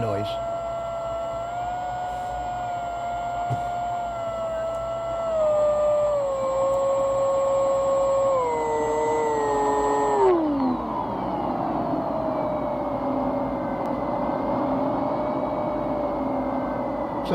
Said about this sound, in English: You can hear a little wind noise.